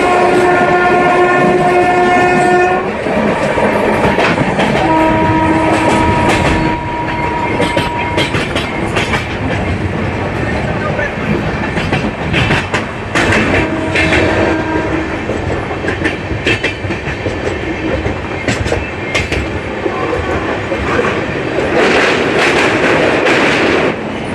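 A Maha Kumbh special express crosses from Andhra Pradesh into Odisha near Rayagada, heard from inside a general coach: loud, continuous clattering wheels and rumbling wagons, broken by several prominent horn blasts.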